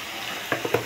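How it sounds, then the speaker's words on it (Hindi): Garlic sizzling in hot oil as a tempering for potato and eggplant curry, a soft steady hiss with a few sharper pops and crackles toward the end. "तड़का दिए हैं लहसुन"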